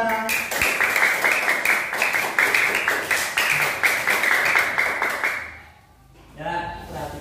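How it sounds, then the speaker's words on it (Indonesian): Audience applause for a speaker at a dissemination session, a dense run of many hands clapping steadily for about five seconds before fading out, after which a voice begins speaking. "Terima kasih, tepuk tangan untuk Mbak Vega"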